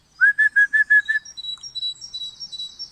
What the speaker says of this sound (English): It's a great tit.